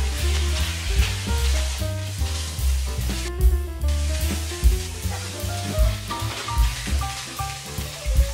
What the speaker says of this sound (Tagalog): Igisa ang karne.